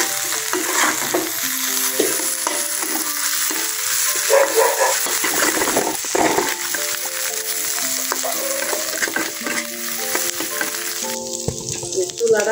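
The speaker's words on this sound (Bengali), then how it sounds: "এই যে চাপা শুটকি ভাজা হয়ে গেছে" Chapa shutki, pressed dried fish, frying in a pan with a steady loud sizzle and crackle throughout, occasional stirring, and some tonal sounds running underneath.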